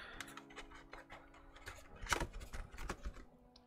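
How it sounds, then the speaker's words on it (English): Plastic keyboard keycaps rattling and clicking inside a box, a quick irregular run of light ticks and clatters at close range, busiest in the latter half. "That sounds like keycaps."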